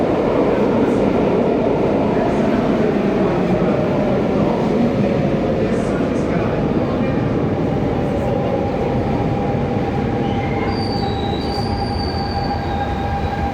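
An RER suburban train running from Orly airport toward central Paris, with a loud, steady rolling rumble and wheel squeal, plus thin high-pitched tones rising near the end.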